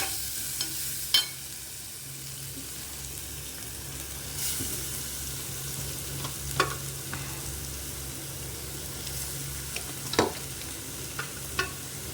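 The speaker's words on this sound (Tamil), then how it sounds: "கொஞ்சம் போட்டு கொஞ்சம் கலக்கிடுங்க, இல்லைன்னா கரிஞ்சு போயிடும்." Grated carrot frying in a pan as it is stirred, a continuous sizzle broken by scattered scraping and tapping strokes of the spoon, close and without talk.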